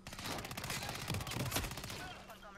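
Rapid gunfire from the stealth game Hitman 3 comes in a quick run of sharp shots, fairly quiet and mixed with background game sound.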